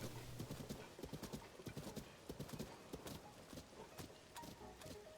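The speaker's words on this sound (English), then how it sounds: "Check out my enormous horse." A horse in the video game Tears of the Kingdom clip-clopping along, a quick, steady run of crisp hoofbeats at close range with a faint neigh mixed in.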